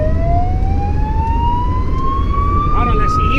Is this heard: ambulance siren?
yes